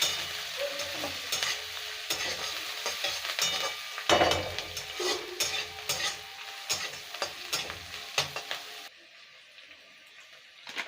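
Curry leaves frying in a pan for a village-style chicken 65, with a loud continuous sizzle and scraping stirs close by, and the sizzle suddenly dropping quieter near the end.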